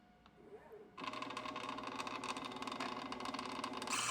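A Mastrena II espresso machine grinder starts after a second of near silence, then runs steadily with a buzzing, rasping whir as its burrs touch, growing slightly louder near the end.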